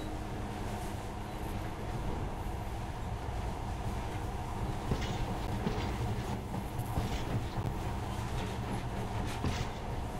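Monorail train from the video game Metro: Last Light Redux running steadily, a dense continuous rumble with faint rhythmic clatter and hiss throughout, no voices.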